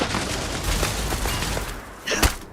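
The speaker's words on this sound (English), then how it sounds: "just get the rifle and shoot that thing, will ya?" Rifle fire in the sci-fi game Starfield: a dense run of rapid gunshot bursts over a steady background, ending in a sharper, louder crack near the close.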